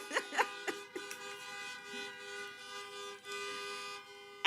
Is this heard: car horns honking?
yes